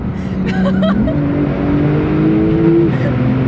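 A 750-horsepower Porsche accelerating hard on an open road, its engine note rising steadily as it pulls through the revs, loud and close from inside the car, with a brief voice near the start.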